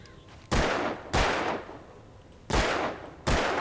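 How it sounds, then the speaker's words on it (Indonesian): Four loud gunshots from the video game Alan Wake ring out in two pairs, each a sharp blast with a long decaying tail, separated by a pause of about a second; no talk. "Oh, jadi kita bisa nembak gini guys."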